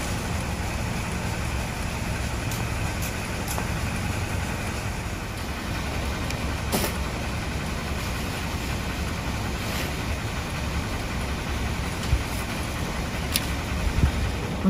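Inside a car, an engine idles as a steady low hum, with faint rain-like patter and occasional small clicks and taps over the drone.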